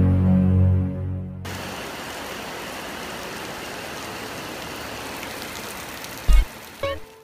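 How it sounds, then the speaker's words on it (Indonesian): Rain falls outdoors near a mosque, a loud, steady wash that starts abruptly after a brief muffled moment and runs on evenly, broken near the end by a couple of thumps. "Kami diserang hujan."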